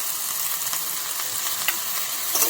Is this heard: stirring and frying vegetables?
yes